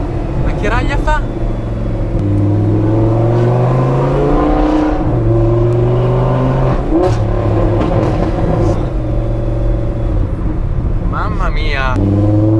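An Audi R8 V10 roars while driving, its engine droning steadily and rising in pitch as it revs, loud and close from inside the car, with people talking over it.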